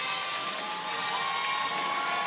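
A Sokol Arena crowd cheers for the Creighton volleyball team after a win, a loud, steady roar of voices with shouts and whoops, sustained throughout without a break.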